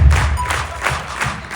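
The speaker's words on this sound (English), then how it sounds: "Everybody clap." A youth conference crowd in Indianapolis claps in unison to a beat, four sharp, evenly spaced group claps over a low thumping music bed.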